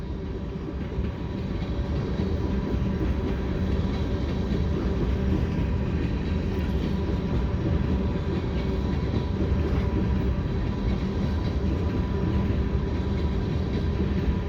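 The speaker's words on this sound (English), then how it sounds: "that's the end of the train right there" A long CN mixed freight train with covered gondolas rumbles steadily past up close over the Lachine Canal crossing, a continuous low roar of rolling wheels and rattling cars with no break throughout.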